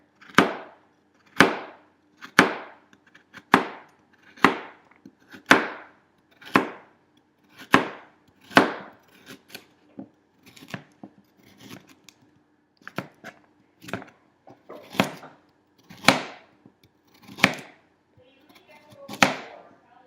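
A kitchen knife chops vegetables for a beef pot roast on a cutting board, about sixteen crisp, evenly spaced taps at a steady unhurried rhythm, close and clear with near silence between strokes.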